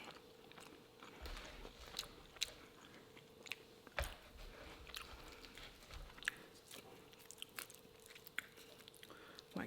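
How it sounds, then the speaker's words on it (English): Quiet, close chewing of a mouthful of chicken tikka masala: soft crunches and wet squishes come in an irregular rhythm for about ten seconds, with no talking. "let me take another bite"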